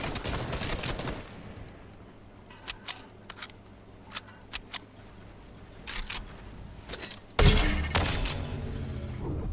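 Fortnite gunfire rings out as a burst of shots at the start, then scattered single cracks and short volleys, ending with a loud heavy blast followed by sustained noise.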